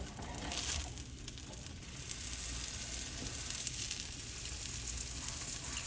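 A grilled cheese burrito browns in a frying pan, giving a steady close sizzle with soft crackles and faint stirring scrapes, no voices over it.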